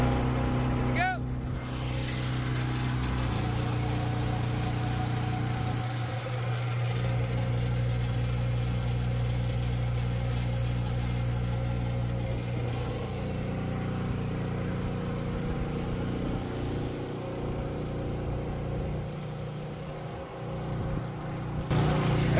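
Steady, loud drone of a pump engine running during a commercial well abandonment job, a constant low rumble holding throughout with slight shifts in tone, and people talking faintly at times over it.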